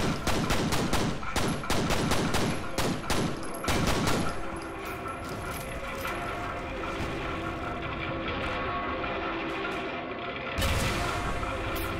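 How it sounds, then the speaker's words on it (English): Dense enemy gunfire in the shooter game FEAR: Extraction Point, loud rapid bursts of automatic fire crackling over the first few seconds, then a steady rumbling din of combat noise, with another burst of shots near the end. "They're shooting me like crazy."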